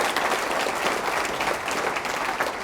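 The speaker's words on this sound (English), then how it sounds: "I see some hand clapping online." Audience hand clapping at an all-hands staff meeting, steady dense applause from a room full of people lasting the whole moment, fairly close and even in loudness.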